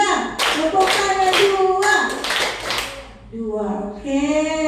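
A group claps hands together in rhythm as a classroom exercise, sharp bursts coming in quick sets before a voice speaks over the end.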